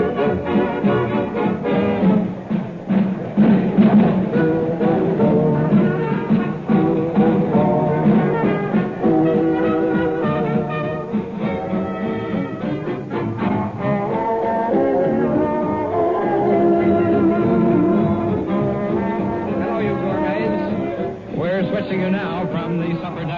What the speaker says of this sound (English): Kitchen here, and what you're hearing is not excitement because of an air raid, but just the busy orders providing people with meals there